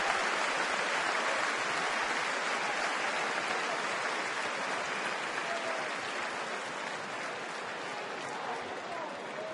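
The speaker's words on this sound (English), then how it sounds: "the crowd here in Detroit gives him a round of applause" A large crowd at a Detroit baseball game applauds loudly in a dense, steady wash of clapping that eases off slightly toward the end.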